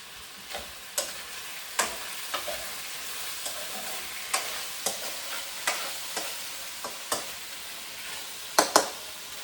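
Celery and potato cooking in a pan, with a soft continuous sizzle broken by sharp, irregular clicks and scrapes of a utensil stirring, close up and with no voices.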